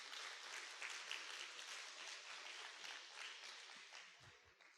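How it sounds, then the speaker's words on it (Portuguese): A congregation at an evangelical church service claps warmly for an engaged couple called to the front, a steady wash of many hands heard from a distance at a soft level. "Vamos aplaudir o Senhor bem forte?"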